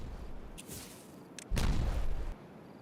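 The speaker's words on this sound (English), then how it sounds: "Let's go ahead and detonate this" A bomb detonating in the beaver city-building game Timberborn: after a few faint clicks, a single loud, muffled boom hits mid-clip and rumbles for under a second before dropping away.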